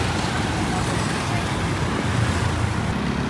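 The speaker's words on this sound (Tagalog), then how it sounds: "Sobrang traffic papunta palabas ng Maynila." Heavy road traffic at the Alabang exit near Manila, a dense, continuous roar of car and bus engines and tyres, loud and close throughout with a constant low rumble.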